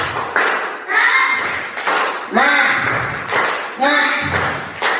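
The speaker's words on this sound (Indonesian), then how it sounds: "mari kita tepuk semangat" A classroom of children claps out a rhythmic chant in short, sharp bursts of hand claps mixed with shouted voices, led by a teacher.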